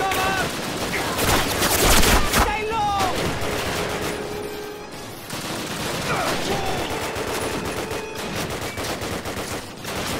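Turret and machine-gun fire in the Call of Duty campaign, dense rapid bursts and scattered shots echoing over a battlefield for the full stretch, with a player talking occasionally.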